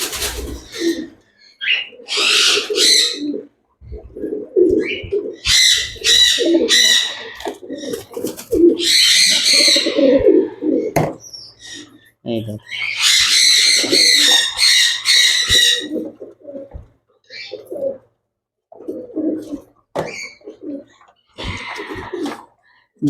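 Pigeons coo repeatedly while being fed grit, with several birds in bursts of low, throaty calls close by, some overlapping, against occasional squawks and short pauses.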